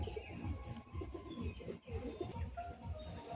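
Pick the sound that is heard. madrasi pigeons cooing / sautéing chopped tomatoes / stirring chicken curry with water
madrasi pigeons cooing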